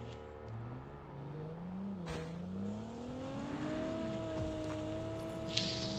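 A car engine in a video game hums and rises in pitch as it accelerates, a steady motor drone with shifting revs and a brief clunk midway, no talk.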